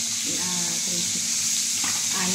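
Tilapia frying in hot cooking oil gives a steady dense sizzle with crackling, close and continuous, with a faint voice briefly underneath.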